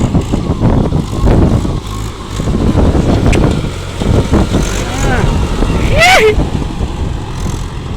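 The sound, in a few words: Mahindra 575 DI tractor engine while driving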